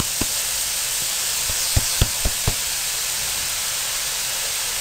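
Zucchini cubes tipped into frying onions in a pan for tori bhartha: a steady, loud hiss of sizzling oil with a handful of sharp clicks as pieces land.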